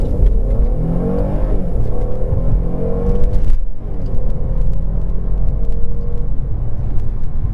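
A 2019 Mercedes-Benz S450 (W222) with a 3.0-liter twin-turbo M276 V6 launches hard in sport mode: a loud, steady engine roar climbs in pitch, breaks briefly at a gear change, then keeps pulling upward.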